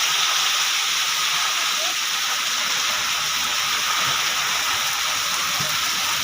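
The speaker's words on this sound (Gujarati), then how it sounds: "વરસાદે ધબાધબી બોલાવી દીધી હો" Heavy rain pours steadily in a village, a dense, loud, unbroken hiss with gusting wind, and a voice is heard faintly beneath it.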